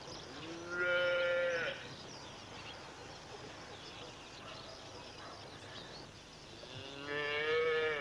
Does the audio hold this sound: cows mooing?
yes